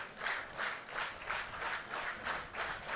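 Baseball crowd at a Welland Jackfish versus Guelph Royals IBL game stomping feet in a steady rhythmic beat, roughly three stomps per second, a broad far-off rumble with no talk.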